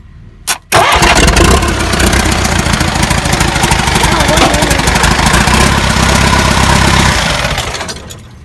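Swaraj Mazda truck diesel engine being cold started after sitting for six years: a brief crank, then a loud rough idle that rumbles steadily for several seconds before easing down, with voices faintly in the background.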